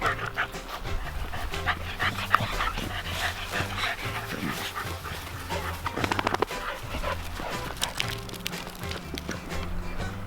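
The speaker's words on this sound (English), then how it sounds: "Those are the dogs." Dogs on a small market garden farm bark, yip and pant close by, with a few whimpers in a steady, busy stretch of outdoor noise.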